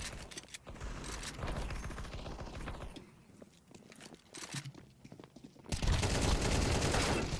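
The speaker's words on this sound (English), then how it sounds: "the shots on this gun are just so butt." Gunfire from a weapon in the video game CSGO rattles in rapid repeated bursts, loud and near, with a brief quieter gap before an even denser volley.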